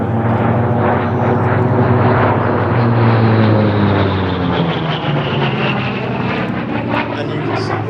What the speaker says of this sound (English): the Bearcat still now holds the current piston engine world speed record